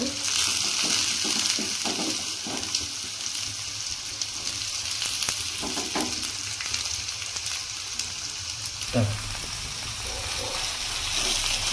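Finely chopped onions sizzle and crackle steadily in a hot pan for puri palya, with occasional stirring scrapes and clinks over a continuous frying hiss.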